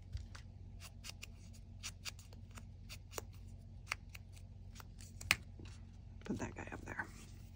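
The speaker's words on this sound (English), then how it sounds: "We're going to cut the corners." Scissors snipping the corners of a paper envelope, a series of crisp, close, quiet cuts at irregular intervals, with soft whispered talk and paper handling in the background.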